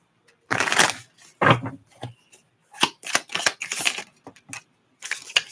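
Tarot cards riffle and flutter in several quick bursts during a tarot reading, crisp papery shuffles with short pauses between them, close up.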